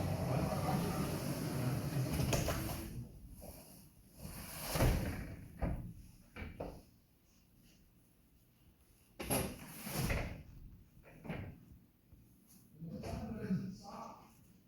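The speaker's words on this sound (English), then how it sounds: "So this is an accordion style door, and you can see here where we can just pull this baby closed." An accordion-style folding door with a built-in pass-through door is pulled shut in a display room, producing a series of rattling clacks and sliding bursts spread through the stretch, mixed with someone talking nearby.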